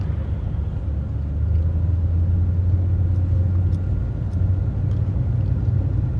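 A car drives past a police car with flashing lights and a car in a ditch, heard from inside as a steady low road and engine rumble that swells slightly midway; no talking.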